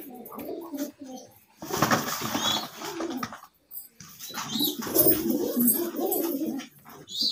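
Soft, low pigeon coos repeat in bursts, close by, with scattered rustling and faint bird calls between them.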